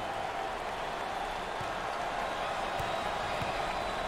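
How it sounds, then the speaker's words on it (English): A packed arena crowd at an NCAA March Madness Elite Eight basketball game between TCU and St. Mary's roars in a steady, dense wash of cheering and noise, with faint thumps mixed in. "You talk about a packed house. Look at this crowd."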